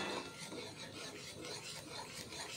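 Boiled lentils with drumstick leaves being mashed in a pot, a steady close rasping, scraping rub with a faint rhythmic pulse, continuous and fairly loud with no voices.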